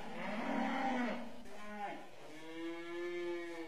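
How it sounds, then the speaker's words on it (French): Cows mooing close by in a barn, two long, deep, drawn-out calls one after the other with no talk over them. "Nous voilà dans les vaches."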